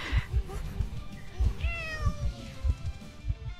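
Cats meow in the video game Identity V, a couple of rising and falling mews over a background of soft rhythmic thumps and game noise, fairly close and moderately loud.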